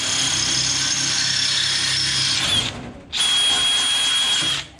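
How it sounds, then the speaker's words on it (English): A power drill bores holes into a race car's nose panel during Talladega race prep, a loud steady whine running about two and a half seconds, a brief pause, then a second equally loud burst of drilling. "Drill these holes."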